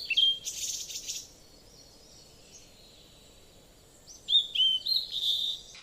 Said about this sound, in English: Bulbul Queen, chirping happily to attend the party.